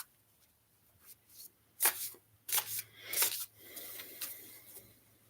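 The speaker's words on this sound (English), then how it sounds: "All right, so shuffling these cards" Tarot cards being shuffled during a live reading, a few soft riffling bursts and rubbing swishes spaced irregularly over a faint steady hum, close and quiet with no talk.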